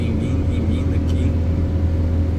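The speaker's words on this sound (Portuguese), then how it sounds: "Você vê que tá passando um caminhão." A loud, steady roar of a passing truck fills the scene, a continuous low rumble with road noise that stays heavy throughout, near and unbroken.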